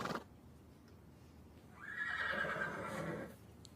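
A horse whinnies in a stable, a single drawn-out neigh rising and fading over about a second and a half, fairly close, after a brief sharp sound at the start and otherwise quiet surroundings.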